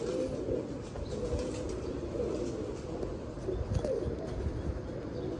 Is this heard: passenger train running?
no